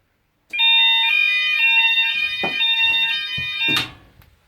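Fire alarm system sounding during a test, a loud steady electronic tone with bell-like bursts, close and continuous for several seconds before cutting off.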